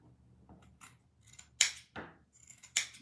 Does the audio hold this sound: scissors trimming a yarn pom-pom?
yes